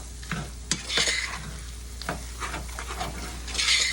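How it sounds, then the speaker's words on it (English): Flour being stirred into sausage gravy in a pan, a soft steady scraping and stirring over a faint sizzle, with a few louder scrapes of the spoon against the pan. "So I'm just going to stir this for a minute or two"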